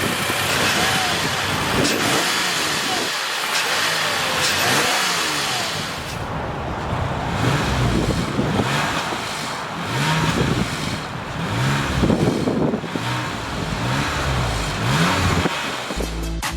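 A 2020 Toyota Highlander's 3.5-liter V6 engine revs up and down several times, rising and falling surges of mid-pitched engine noise heard fairly close through the exhaust.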